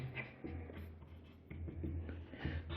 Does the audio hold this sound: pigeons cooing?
no